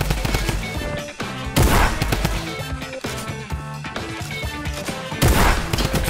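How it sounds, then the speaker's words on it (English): Rapid gunfire in the battle-royale game Fortnite, with quick bursts of shots over rhythmic, music-like game audio and two louder blasts standing out above the mix. "I can't even aim with a shotgun."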